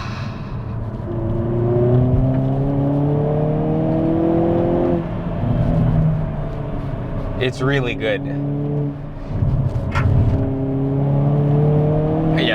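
A Hyundai Kona N engine revs and rises through gears, then drops with quick downshift blips and rerevs, loud and close from inside the car while people talk over it.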